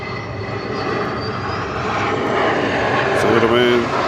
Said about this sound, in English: I think it's one of those little 717s. They make some noise when they land